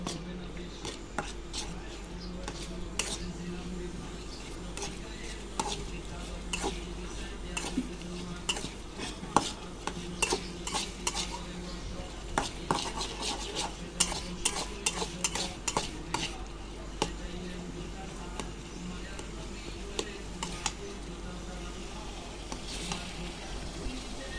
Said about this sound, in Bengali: একটা ডিম দিয়ে আর কি ভাজি করতেছি